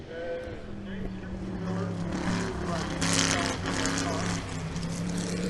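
Corvette race car passing on the track at The Mitty, a loud, rising engine roar with a broad rushing swell as it goes by, close and continuous.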